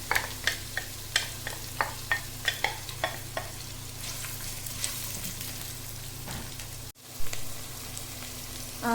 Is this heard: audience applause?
no